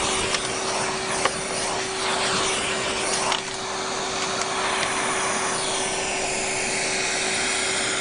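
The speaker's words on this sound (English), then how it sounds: "Let me just vacuum it off a second." A vacuum cleaner sucks dust off a Sebo X7 upright vacuum, its loud, steady motor whine running continuously with a few brief clicks and scrapes of the nozzle against the machine.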